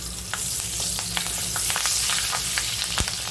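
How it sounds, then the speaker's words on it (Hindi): Curry leaves, fenugreek seeds and cumin spluttering in hot oil for a Konkani fish curry, a steady close sizzle broken by sharp scattered pops and crackles, with no talking. "इसमें करी पत्ता, मेथी दाना, जीरा डालेंगे, अच्छा से तड़कने देंगे"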